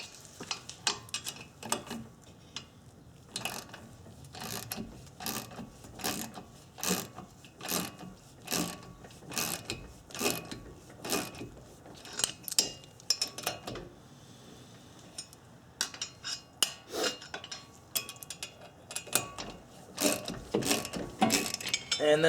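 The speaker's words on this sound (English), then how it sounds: "So we'll slowly drive in these two bolts" Ratcheting hand tool clicks repeatedly and closely as 8mm bolts are slowly driven into the pilot holes of a brake rotor to push it off the hub, in irregular bursts with brief pauses.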